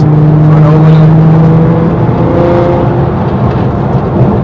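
640bhp Nissan GT-R on air ride suspension accelerating hard, a loud, sustained engine roar with rising harmonic tones close by, no talking.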